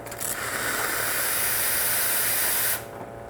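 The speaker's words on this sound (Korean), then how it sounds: "이 노즐을 이 젖은 행주로 깨끗이 닦아주고 안에 있는 수증기를 먼저 빼내줍니다" An espresso machine steam wand being purged after a wipe with a damp cloth releases a loud, steady hiss of steam for nearly three seconds, then cuts off abruptly.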